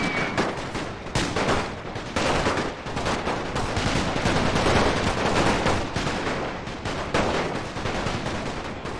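Dense, continuous volleys of musket and rifle fire crackle through a Great War battle in Napoleon: Total War, loud and sustained with overlapping shots and booming bursts, no talking.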